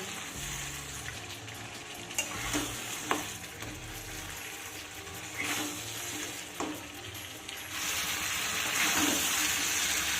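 Mutton slowly stir-fried over medium heat in a pan, a steady low sizzle broken by occasional scraping stirs, growing louder and fuller toward the end, with no speech.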